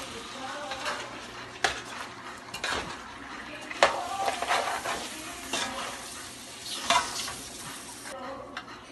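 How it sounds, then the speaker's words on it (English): Vegetables frying in a pan for Cameroon fried rice are stirred, with a steady sizzle, repeated scraping and clanking of a utensil against the pan, and occasional louder knocks. "Stir it a little bit, then I add the rice"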